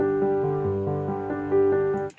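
A piano plays a verse passage with sustained chords and a few shifting bass notes, steady and moderately loud, no voices.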